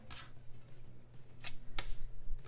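Scissors trimming a sheet of planner paper, a few short crisp snips spaced apart, close and quiet.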